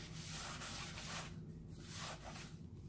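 A hand rubs a finish into a surface during a farmhouse decor DIY project, giving a soft, continuous scrubbing and swishing that comes in strokes and stays close, quiet and alone.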